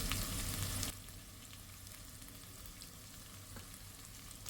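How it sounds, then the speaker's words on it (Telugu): Ginger garlic paste dropped into a pan of frying onions for gongura pulao, giving a steady close sizzle that is loud at first, then settles into a softer continuous frying hiss with faint stirring. "ఇప్పుడు అల్లం వెల్లుల్లి పేస్ట్ వేసుకుందాము"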